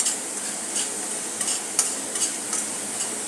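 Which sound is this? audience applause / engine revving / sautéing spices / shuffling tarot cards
sautéing spices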